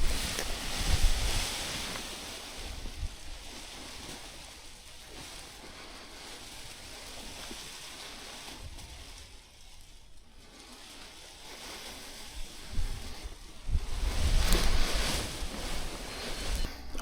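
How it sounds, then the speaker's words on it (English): Wind streaming over a hillside while paragliding at Honeybourne, heard as a steady broadband rush of microphone wind noise that swells louder at the start and again near the end, with a quieter lull in the middle. "I watched some wind slowly moving up the hill."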